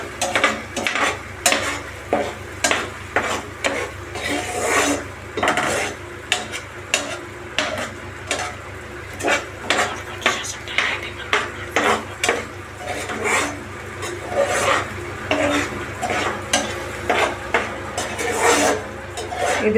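Apple pieces fry in a pan for apple halwa while a spoon keeps stirring them, making a loud, close sizzle with repeated rhythmic scraping strokes.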